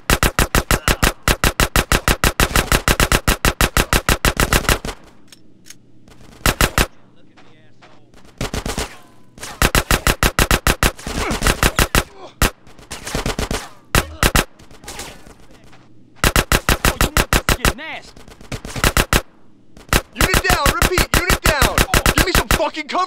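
Loud bursts of automatic gunfire from the video game GTA San Andreas during a gang shootout, long rapid volleys broken by short pauses and a few brief quieter gaps, close and dominant throughout.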